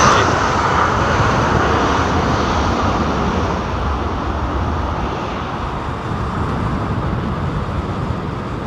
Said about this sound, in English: That noise that you're hearing now is that 321neo just starting its engines, or starting its number 2 engine